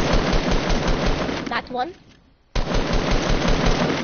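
Rapid automatic gunfire in the Fortnite video game rattles loudly, breaks off for about a second while a voice speaks briefly, then resumes at full intensity.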